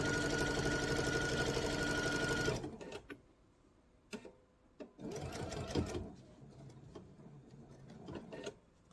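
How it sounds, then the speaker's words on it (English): A sewing machine stitches quilt binding in one steady, loud run for about two and a half seconds, then stops; afterward come scattered handling clicks and a couple of shorter bursts of softer mechanical noise. "And I'm going to sew all the way across for my binding until I get to the other side."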